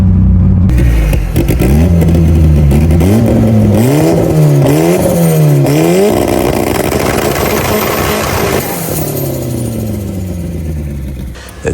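A tuned Mitsubishi Evo with a built engine, AGT 6466 turbo and 2150 cc injectors revs hard at around 40 psi of boost, its loud engine note rising and falling in repeated sharp sweeps before settling into a lower drone.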